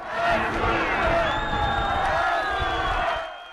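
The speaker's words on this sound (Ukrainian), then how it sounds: "Натовп скандує Росія." A large pro-Russian separatist crowd in Donetsk, Ukraine, chants "Russia" together in a loud, continuous roar, with voices rising and falling across the whole stretch before it eases off at the end.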